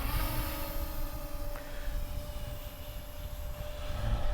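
A JJPRO X5 EPIK GPS camera drone lifts off outdoors, its motors producing a steady, droning whine with a constant pitch over broad breezy background noise, continuous and fairly close.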